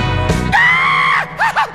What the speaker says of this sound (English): Doesn't everybody from time to time like a little primal scream?